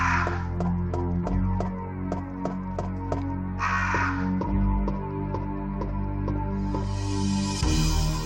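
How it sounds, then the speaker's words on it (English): Crows caw repeatedly in the original Resident Evil video game, sharp evenly spaced calls over ominous droning game music, with a few louder bursts of sound effects mixed in. "the crows won't attack because we got it correctly"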